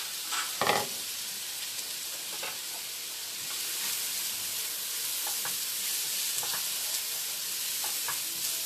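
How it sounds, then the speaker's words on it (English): Hot oil sizzles steadily as chopped diced onions fry in a pan, a continuous bright hiss with a sharp crackle near the start and occasional soft stirring clicks. "Now I'm adding my chopped diced onions. Yeah, you can hear that sizzle."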